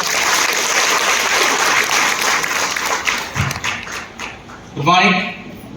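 A crowd at a Vestige business association champion day in Peddapalli claps loudly and continuously. Dense applause fills the clip, and a voice cuts in near the end.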